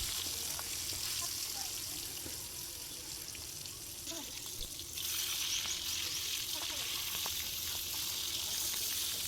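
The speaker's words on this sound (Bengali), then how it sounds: "সবগুলো মাছ এইভাবে ভেজে নেব।" Pangas fish frying in oil, a constant loud crackling sizzle heard close up, with a few faint clicks from a utensil and a slight rise in intensity partway through.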